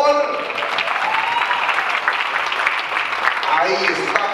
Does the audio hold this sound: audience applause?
yes